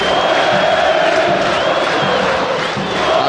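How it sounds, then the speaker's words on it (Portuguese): Football stadium crowd at a Palmeiras versus Sport Brazilian Série A match, a loud sustained roar of cheering and shouting after a corner kick, dense and continuous for a few seconds. "tocou para escanteio, a torcida pula"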